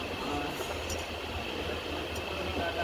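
The West Coast Express train to Chennai rolls along, a steady rumbling and rattling carriage noise with occasional faint clinks throughout.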